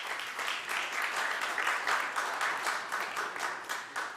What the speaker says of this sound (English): If you would be so kind to refrain from clapping